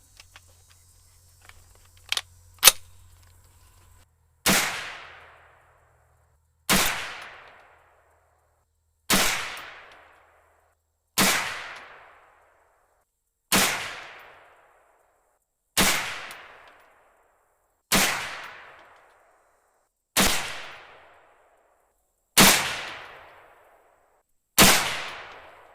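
Savage Arms A22 .22 WMR semi-automatic rifle firing 30 grain Hornady VMAX rounds, ten sharp, loud cracks spaced about two seconds apart, each with a short decaying tail, no voices.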